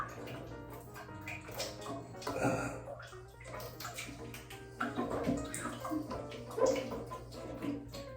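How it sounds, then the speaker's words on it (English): Steady spray of water from a shower head hissing and splashing, with irregular spatters and a faint low hum underneath. "Water comes out nice and strong."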